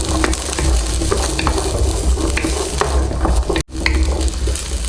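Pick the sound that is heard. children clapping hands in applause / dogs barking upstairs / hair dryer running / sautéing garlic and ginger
sautéing garlic and ginger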